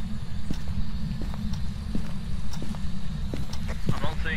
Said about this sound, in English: he took a loud footstep by me